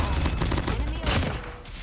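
Rapid bursts of gunfire in a shooter video game, loud and dense, with overlapping shots throughout and a voice faintly under the firing.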